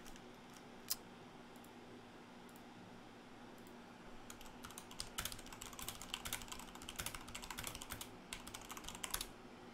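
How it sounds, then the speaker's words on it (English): Faint typing on a computer keyboard while setting up Windows Chicago Build 267 on Arch Linux: a lone click, then irregular bursts of quick key taps that grow busier midway, all quiet and close. "I'm just gonna use the keyboard"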